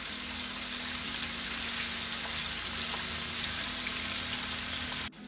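Spicy KFC-style chicken tenders deep frying in hot oil give off a loud, dense, continuous bubbling sizzle up close, which cuts off abruptly at the end.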